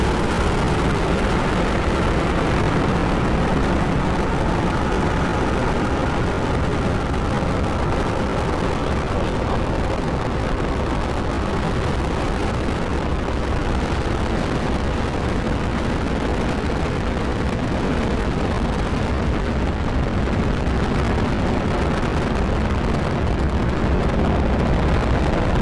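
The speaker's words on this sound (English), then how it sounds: "Ignition, liftoff." SpaceX Falcon 9 rocket engines at liftoff, carrying the Amos-17 communications satellite, producing a loud, steady, broadband roar that rumbles without pause and fills the whole span with no talking.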